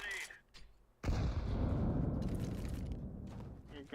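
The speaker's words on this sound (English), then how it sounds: "Throwing a grenade." A grenade explodes in Counter-Strike: a sudden loud broadband blast that rolls into a long, rumbling decay, preceded by brief scuffling game sounds.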